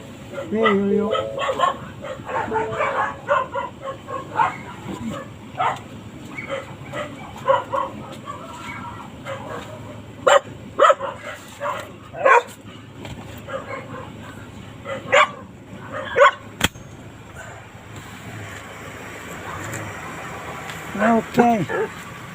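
Several dogs bark, yip and whimper in repeated close bursts at a new home in the Philippines, as a slow-moving truck engine rumbles beneath and a person talks.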